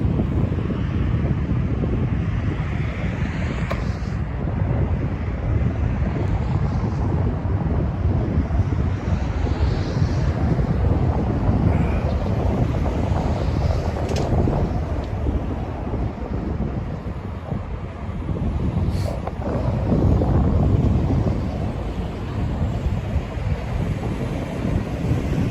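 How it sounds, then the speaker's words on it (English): Airliner departing Toronto Pearson airport: a long, steady, broad roar that swells and fades slightly over the clip, heavily mixed with outdoor wind buffeting on the microphone and no talk. "And we have takeoff."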